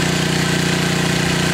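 A stationary engine fueled by wood gas from a gasifier runs at a steady, loud idle, a continuous droning hum with even vibration and no pauses throughout.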